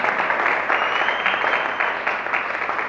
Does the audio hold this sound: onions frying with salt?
no